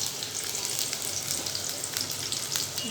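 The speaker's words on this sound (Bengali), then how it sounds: "পেঁয়াজ কুচি, সাথে সামান্য একটু রসুন কুচি দেবো।" Chopped onion and a little chopped garlic frying in a pan for a hilsa fish dish, a steady close crackling sizzle that continues throughout without speech.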